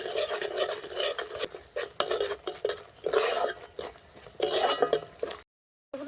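Spice paste with tomato, sour yogurt and sugar stirred in a pan, giving a steady rasping, scraping rub of a spoon against the metal with occasional light clinks, continuous and close, then a brief cut to silence near the end.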